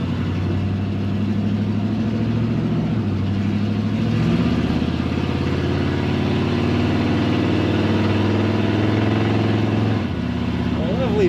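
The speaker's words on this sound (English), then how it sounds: "Throaty exhaust note to this truck" A 1972 Chevrolet C10 pickup engine idles steadily with a deep, throaty exhaust rumble, constant and close throughout, with a faint shift near the end.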